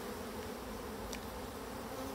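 Honey bees in an opened beehive make a steady, dense buzz that is soft and continuous, with no talking.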